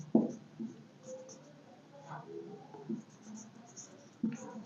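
Pen writing on paper while solving a class 8 linear equations problem, heard as close, soft scratching strokes in short bursts with pauses between them, with no talking.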